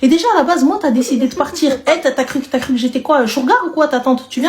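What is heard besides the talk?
No distinct noise like a dog, phone or traffic.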